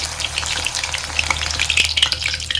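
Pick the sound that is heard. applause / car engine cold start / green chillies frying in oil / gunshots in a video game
green chillies frying in oil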